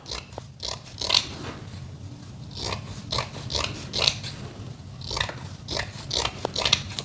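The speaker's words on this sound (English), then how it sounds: "I might also do a long one and maybe cut some strips this way." Scissors snip through strips of dry plaster gauze in a quiet room, giving a run of short, crisp rasping cuts at an uneven pace, close to the listener with no talk.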